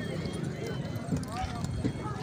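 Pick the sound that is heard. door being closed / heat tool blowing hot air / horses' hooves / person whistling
horses' hooves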